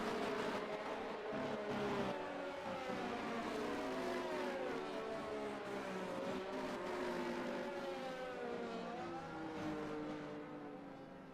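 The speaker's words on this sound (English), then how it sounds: "As the cars are lining up on the grid very shortly." Several F1 race car engines idle and rev on the starting grid of a wet Chinese Grand Prix in the F1 23 video game, a dense, continuous whining drone with rising and falling pitch sweeps, loud and steady.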